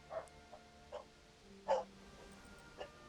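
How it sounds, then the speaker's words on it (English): A dog in the video game Dragon Quest 8 gives several short, faint barks and yips spaced irregularly over a few seconds, the loudest near the middle, with quiet game ambience beneath. "Dog."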